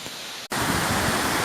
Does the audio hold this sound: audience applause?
no